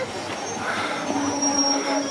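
Steam train on the West Somerset Railway bound for Bishops Lydeard, a steady rolling rumble with faint wheel squeal and a sustained high whine, continuous and fairly close, with light voices mixed in.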